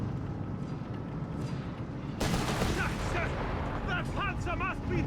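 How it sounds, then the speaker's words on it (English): Gunfire and blasts from a Crusader tank's 2-pounder gun in Company of Heroes 3, a battle scene that erupts into loud, dense firing partway through, with a voice talking over it. "Crusaders there blasting with the 2-pounder gun"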